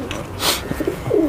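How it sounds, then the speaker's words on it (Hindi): A high flyer umbrella pigeon gives a short, soft coo nearby, a brief low throaty call amid light background noise. "लेकिन है ये जो है छतरी वाला कबूतर है, पट्टी वाला"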